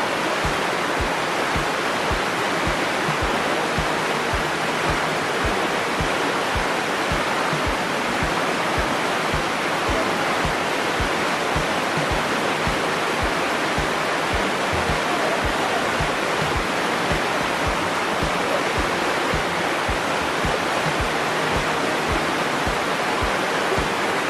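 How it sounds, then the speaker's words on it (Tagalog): Water rushes loudly and continuously at Miabo Cave in a dense, unbroken roar with no pauses and no talking. "nararamdaman ko yung pag-flow ng tubig"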